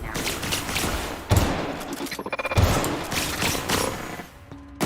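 Guns fire in the video game The Outer Worlds: loud bursts of rapid shots with sharp thumping impacts, a stuttering volley in the middle, then the fire trails off and a final shot lands at the end, with no talk.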